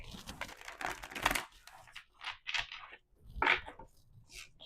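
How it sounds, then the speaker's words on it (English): Crisp papery riffling and soft slaps of tarot cards being shuffled close by, in uneven bursts with short pauses, no voices. "Do a little bit of shuffling."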